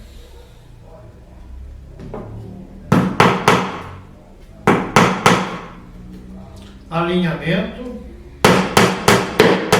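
Nails hammered into wood while building a niche, in quick clusters of sharp, close blows separated by pauses, with a brief spoken word between them.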